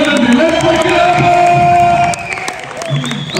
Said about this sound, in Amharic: ጭብጨባ ይገባ።